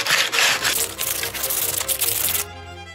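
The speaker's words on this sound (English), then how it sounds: "This sandpaper is so bad." Sandpaper rubbed back and forth over a wooden sword, giving close, loud scratchy strokes for about two and a half seconds before cutting off into quiet.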